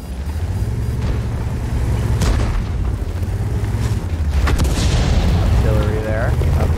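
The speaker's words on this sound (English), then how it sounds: "Artillery there, of course, like clockwork." Artillery fire in World of Tanks, heavy booms and rumbling blasts among engine drone and tank battle noise, with a voice talking over the action.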